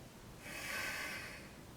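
One long, deep breath drawn in or out during a stretching exercise, close and breathy, swelling and fading over about a second with no talking.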